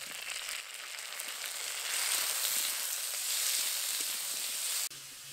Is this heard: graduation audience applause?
no